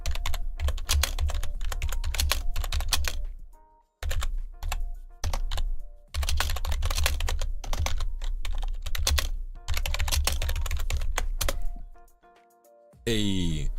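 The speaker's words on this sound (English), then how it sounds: "Get ready for the keyboard presses, everyone." Rapid computer keyboard typing, loud and close, with dense bursts of key presses that stop in a few short pauses, followed by a brief odd sweep at the end.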